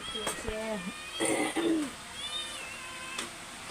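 A kitten mews several times close by, thin drawn-out cries that rise and fall, with other soft noises in the background.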